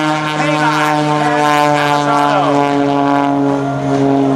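A 300-horsepower propeller aerobatic airplane flies low past an air show crowd, its loud, close engine drone holding steady and then sliding in pitch as it passes.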